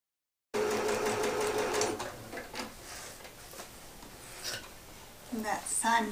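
A sewing machine runs a steady burst stitching a fabric seam, then gives way to softer ticks and handling clicks as the fabric is shifted, with someone speaking quietly over it.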